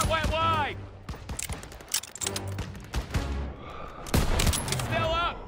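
Rapid gunfire bursts from a Call of Duty WWII battle at a stronghold, loud and continuous with explosions mixed in, under shouted voices of soldiers giving orders.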